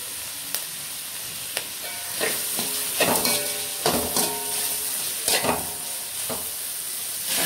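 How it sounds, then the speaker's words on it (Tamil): Beans and chopped vegetables sautéing in oil for semiya egg pulao, a steady close sizzle with repeated sharp scrapes and clinks of a spoon stirring against the pan. "ஒரு 5 நிமிஷம் எண்ணெயிலே கொஞ்சம் நல்லா வதங்கட்டும்."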